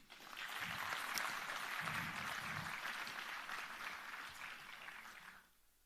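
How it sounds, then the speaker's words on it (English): A conference audience welcomes visiting dignitaries with a sustained round of applause, steady dense clapping filling the room for about five seconds before tapering off near the end. "Heartily welcome to all of them with a huge round of applause, please."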